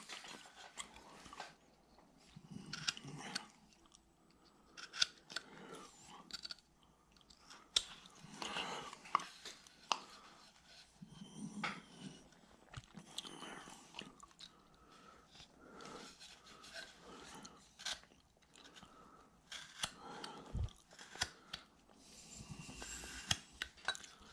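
A knife cuts back against stop cuts while carving a Civil War bust, giving faint, close, irregular scraping and nicking strokes with small clicks over a quiet background.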